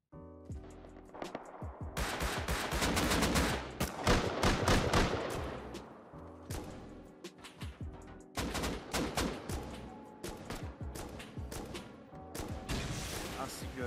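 Gunfire in a raid in the video game Rust, dense bursts of rapid automatic shots and loud blasts, near and loud, with brief gaps between volleys.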